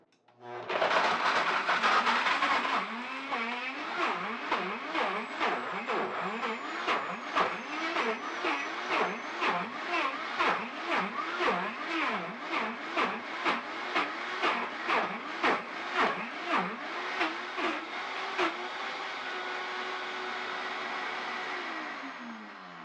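A Vitamix blender runs frozen bananas at top speed, a loud steady motor whine with a rhythmic chopping pulse as the thick mixture cycles, continuing strongly before easing into a smoother drone near the end.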